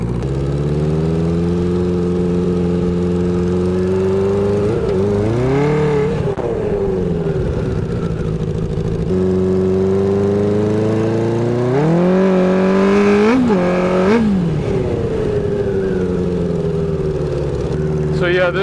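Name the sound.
rebuilt 1980 Honda CB900C motorcycle engine running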